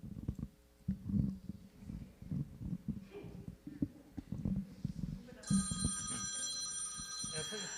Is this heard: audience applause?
no